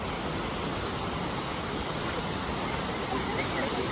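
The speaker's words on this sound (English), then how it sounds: "This is the waterfall here, as you can see." Mangeli Waterfalls in the monsoon send out a steady, broad roar of falling water that stays loud and constant without a break, filling every moment.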